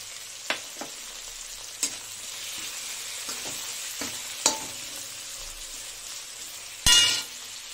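Red chili, turmeric and salt fry in hot oil, a steady soft sizzle with occasional clicks and light stirring taps, and a sharper burst of spitting near the end.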